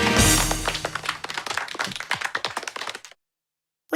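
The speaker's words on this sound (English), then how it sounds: "Please applaud the Valley Babies!" Clapping from a crowd of children's cartoon characters greeting the Valley Babies after their fruit-painted mural, a dense burst of quick, close claps lasting about three seconds, then cutting off to silence.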